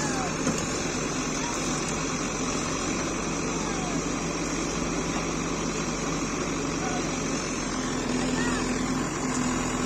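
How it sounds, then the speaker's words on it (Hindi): A JCB 3DX backhoe loader works continuously outdoors, loading soil into tractors, its diesel engine a steady, loud drone that holds for the whole stretch with no break. "Backhoe loader working."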